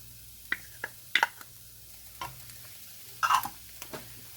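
Onions and jalapenos stirred in a pan, giving a faint bed of sizzling broken by a handful of short scraping strokes, some in quick pairs and clusters.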